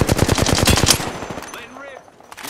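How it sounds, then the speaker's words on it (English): Rapid automatic gunfire from the Apex Legends video game, a dense burst of shots for about a second, then quieter game effects and tonal interface sounds. "Being shot at."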